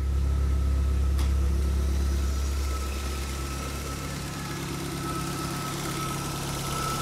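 A cold car engine idles steadily after its fuel injectors were cleaned, a low continuous hum with a slight knocking vibration, close and unbroken, with no voices.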